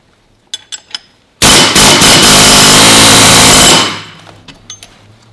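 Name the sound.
power tool loosening clamp bolt on a car engine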